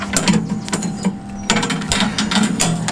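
A Ripper37 sawmill blade sharpening machine running with a bandsaw blade in it, giving a close, loud mechanical whir and hum with rapid ratcheting clicks and periodic clunks in a steady repeating cycle.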